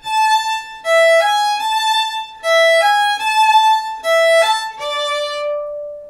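A beginner's lick bowed on violin or fiddle, a short run of clear high notes that moves between a few pitches and repeats the phrase twice, played alone and up close.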